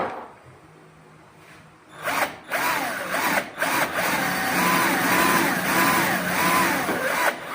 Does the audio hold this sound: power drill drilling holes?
yes